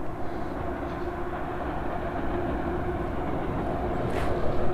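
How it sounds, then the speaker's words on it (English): A train rolling past in a cold winter setting, a steady loud rumble and roar that holds for several seconds and swells slightly near the end, with no voices. "well, here comes the train."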